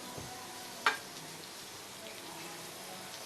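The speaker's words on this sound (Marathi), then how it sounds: "आलं, लसूण आणि सुकं खोबरं हे मी भाजून घेणार आहे." Ginger, garlic and dried coconut, along with onion, roast in a teaspoon of oil in a pan, giving a faint, steady sizzle with a single sharp clink near the start.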